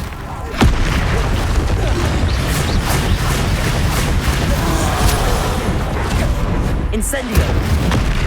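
In the Hogwarts Legacy video game, an Incendio fire spell is cast amid loud, continuous roaring combat noise, with heavy booming bursts near the start and toward the end.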